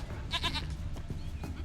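Ambient game sound gives way to a goat in The Witcher 3: Wild Hunt letting out a short, quavering bleat of several pulses, close and clear, then softer background noise and faint calls.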